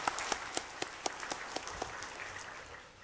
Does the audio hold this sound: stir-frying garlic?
no